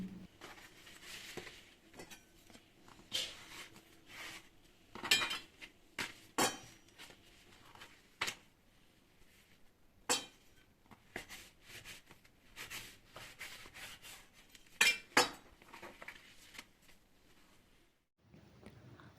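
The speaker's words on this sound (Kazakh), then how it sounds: "Лавашымыздың барлығын дәл видеодағыдай етіп кесіп алыңыздар." A knife cuts through lavash flatbread on a board, giving a quiet run of scattered soft taps and rubbing strokes with short pauses between them.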